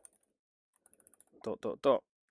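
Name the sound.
typing on a Bluetooth keyboard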